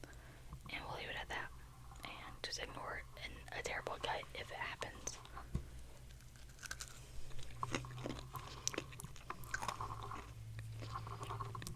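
Crunchy crystal candy chewed close to the microphone, with a steady run of crisp bites and crackles alongside soft whispering.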